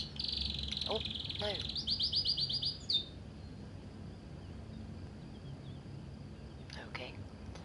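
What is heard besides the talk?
bird chirping in the video game Heavy Rain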